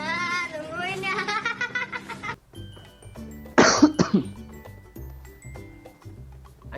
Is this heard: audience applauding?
no